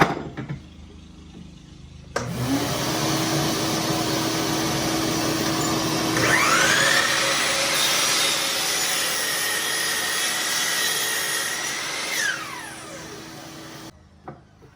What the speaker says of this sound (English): we have the shop vac hooked up to the miter saw